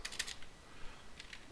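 A computer keyboard is typed on close by as a command is entered in a shell, with a short quick burst of keystrokes, a pause, then a few more faint taps.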